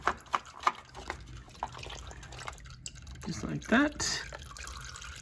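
Oil drips and trickles from a Yamaha R6 motorcycle during an oil change, soft intermittent drips with a short splashy burst near the end, close by, while someone speaks briefly.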